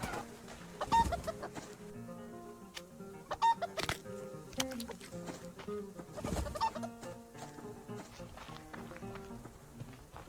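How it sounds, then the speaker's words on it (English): Chickens cluck and squawk while being chased in a survival video game, with repeated loud bursts of clucking and scurrying footsteps over game ambience and scattered impacts. "Like chasing chickens for food and feathers."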